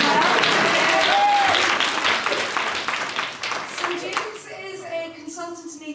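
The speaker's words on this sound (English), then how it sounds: "We'll give him a little clap because we did for John as well." An audience at a debate event claps in a thick burst that gradually thins to scattered hand claps, and a voice starts speaking as it dies away.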